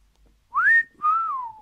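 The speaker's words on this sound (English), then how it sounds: "I like, whistle for the wolf whistle." A person gives a wolf whistle, two clear whistled notes: a quick rising sweep, then a longer note that falls away, alone in a quiet room.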